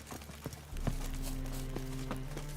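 Horse hooves clip-clop in a video game, a handful of soft, uneven hoofbeats at moderate distance over a low, steady background hum.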